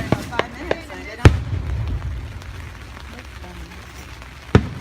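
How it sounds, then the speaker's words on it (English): Fourth of July fireworks in Evesham Township, New Jersey burst with several sharp booms, two of them loud, over a steady wash of heavy rain, while people talk nearby. "And the rain's getting even harder."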